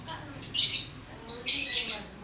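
Rainbow lorikeet, a one-legged bird, gives short high chirping calls in two clusters, close and fairly loud over a faint background.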